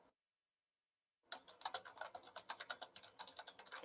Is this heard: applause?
no